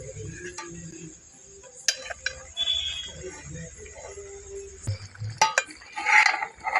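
Plantain curry (aratikaya iguru) stirred in a pan on low heat: a spoon clinks and scrapes against the metal in scattered, quiet strokes over a faint background sizzle.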